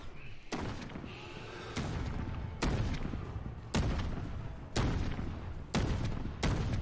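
Heavy gunfire and explosions from a Call of Duty Modern Warfare campaign firefight, loud booming shots and blasts striking about once a second over a rumbling battle bed, with no talk.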